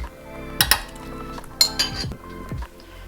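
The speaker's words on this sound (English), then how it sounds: "You're just going to take a spoon and mix it all together" A spoon stirs and scrapes macaron ingredients in a metal pot, giving repeated clinks and scraping knocks at an uneven rhythm, close and fairly loud, with no talking.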